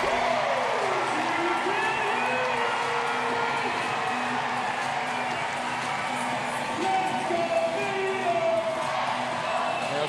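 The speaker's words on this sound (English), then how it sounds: "the crowd is feeding on that, sending their energy back to Venus" A tennis crowd at a World TeamTennis match cheers and roars for Venus Williams, a loud, sustained wall of cheering and whoops that holds steady across the whole stretch with no talk over it.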